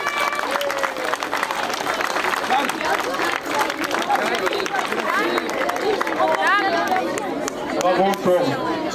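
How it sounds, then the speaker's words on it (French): Crowd applause fills a sailing prize ceremony for young Optimist dinghy racers at Cap d'Agde, steady dense clapping with chatter and voices mixed through, swelling slightly near the end. "Et un tonnerre d'applaudissements pour Sonala."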